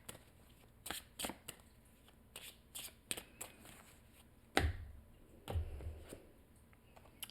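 Tarot cards being shuffled close by, a run of quick papery riffles and flicks followed by two heavier thumps as the deck is squared, with no talking.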